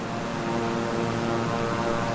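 Beechcraft 350 twin-propeller plane engine in Microsoft Flight Simulator on a stormy flight, a loud, steady drone with a constant propeller hum and no gaps.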